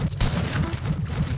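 Rapid video-game gunfire rattles in a steady rhythmic burst of repeated shots, moderately loud, with faint background noise throughout.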